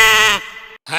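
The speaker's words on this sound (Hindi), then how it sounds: "और बकरी ये रही।" A goat bleats once, loud and close, a quavering harmonic cry that fades into a softer tail and breaks off, then starts again briefly; it stands out in a comic rural scene about selling a goat at Bakra Eid.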